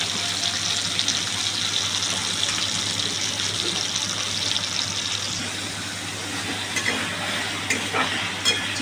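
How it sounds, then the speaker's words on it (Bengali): Small pieces of chicken fry in a pan with a steady, even sizzle and crackle throughout, close and moderately loud, with occasional soft scrapes. "চিকেনটা যতক্ষণ ভাজা ভাজা হবে"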